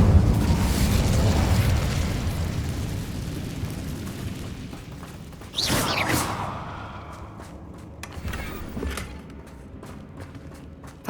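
Fiery Incendio spell burst from Hogwarts Legacy, a sudden loud whooshing blast midway that rings out and fades, with smaller pops afterward over steady game ambience and music.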